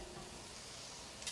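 Onions sautéing on a hot griddle give off a steady, quiet sizzle with a low crackle throughout, rising into a slightly brighter hiss near the end.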